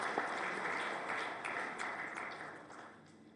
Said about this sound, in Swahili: naomba wote tuwapigie makofi kwa kazi hiyo nzuri